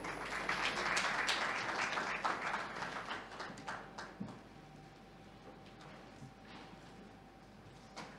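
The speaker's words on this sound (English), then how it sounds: "Mr. Gakuru, please, let's give him a round of applause as he comes up." Applause from a transport forum audience fills a plenary hall, strong at first and then thinning out to sparse claps and room murmur after about four seconds.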